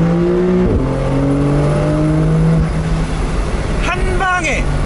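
A Porsche 911 of the 992 generation, cruising in sixth gear, is floored so it drops straight to second and revs toward 6500–7000 rpm: a steady engine drone shifts pitch, then rising sweeps of a hard-revving engine, loud and close.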